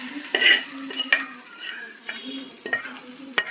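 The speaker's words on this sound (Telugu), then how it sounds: "పోపు ఇందులో వేసేసుకుంటున్నామండి." Hot tempering poured into a coconut and raw mango chutney sizzles steadily while a spoon stirs through it in several quick scraping strokes, close and fairly quiet, with no talking.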